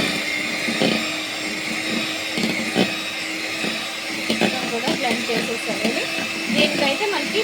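An electric blender whirs as it mixes cream with egg yolk for an Iyengar bakery-style honey cake batter, a steady motor drone with some rattling bursts, while someone talks over it.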